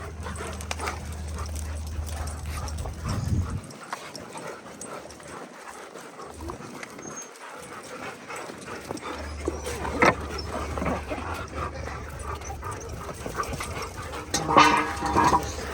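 Farm dogs being moved into a playground enclosure yip, whimper and bark in short bursts amid rustling and footsteps, moderately close, with a low rumble from a vehicle or bike engine at the start and end.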